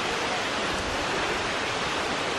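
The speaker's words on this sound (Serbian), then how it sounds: "ono je pravi vodopad" Donji Piljski waterfall on Stara Planina roars as a steady, dense wash of falling water, close and uninterrupted, with no voices.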